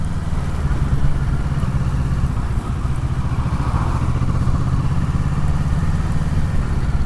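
A 2017 Kawasaki Z650 motorcycle engine runs steadily at low revs, a loud, close, continuous mid-pitched drone with a slight uneven lope and no speech over it.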